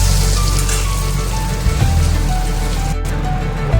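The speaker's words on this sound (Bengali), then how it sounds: "ঝোল ফুটে গেছে" A pot of fish curry broth boils on the stove with a steady, loud bubbling and crackling hiss that runs continuously close by, with a low rumble rising toward the end.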